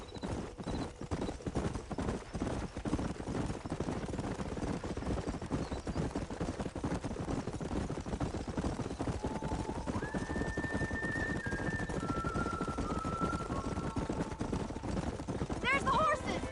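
Horses gallop in Red Dead Redemption on PS5, their hooves clip-clopping in a fast, steady, continuous beat, with a short whinny-like tone in the middle.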